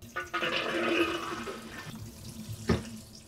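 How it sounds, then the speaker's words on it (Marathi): Water from soaked mixed lentils drains through a kitchen sieve, giving a close, loud splashing rush that tapers off, followed by a short final splash. "तर अशी एक चाळणी घ्यायची आणि चाळणीत पाणी उपसून काढूयात"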